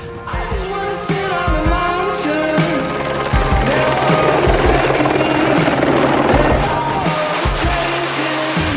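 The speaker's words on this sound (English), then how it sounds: "then we were in a helicopter" Loud, steady thumping drone of a helicopter rotor close by, flying out of the mountains, continuous throughout with a whining engine tone layered on top.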